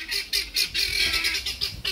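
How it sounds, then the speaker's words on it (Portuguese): Helmeted guineafowl call repeatedly at an old car scrapyard, a series of harsh, rhythmic honking cries at moderate distance, with no talking. "As galinhas da Angola lá,"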